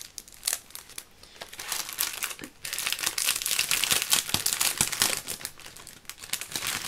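Crinkly gift packaging is torn open and crumpled by hand, a close, continuous crackling with sharp rustling bursts and brief pauses, no talking.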